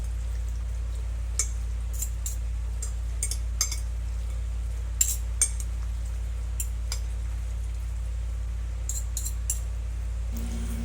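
Eggplant salad being mixed with utensils: scattered light clinks and soft squishy scrapes over a constant low hum, intermittent and fairly faint.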